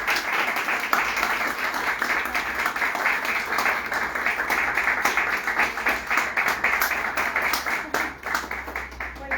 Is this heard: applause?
yes